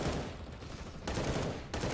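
Rapid gunfire in a competitive video game match, a steady rattling stream of shots that breaks off twice briefly before resuming, loud and close.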